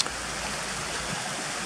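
A river flows beside a footpath up to a waterfall at Cotter Force, with its steady, rushing roar filling the scene evenly and unbroken from start to finish.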